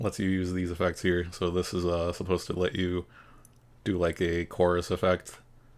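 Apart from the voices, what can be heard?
No everyday noise stands out behind the speech.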